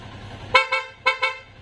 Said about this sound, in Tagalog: Busina, sir.